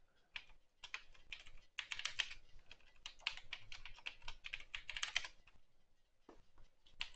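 Steady typing on a computer keyboard, a quick run of close, distinct key clicks with brief pauses between bursts, quiet and without any voices.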